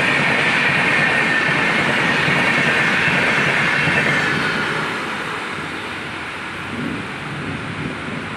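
A passenger train rolls through Mashagram station on the Bankura–Masagram line in a loud, steady rumble of wheels and carriages that slowly fades as it moves away.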